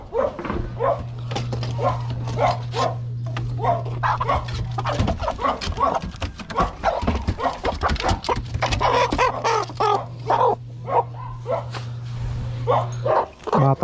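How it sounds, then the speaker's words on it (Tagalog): Chickens cluck and crow close by while dogs bark repeatedly nearby in an outdoor yard. A low steady hum runs underneath, and the scene is busy and continuous. "Ay, mga manok na yan"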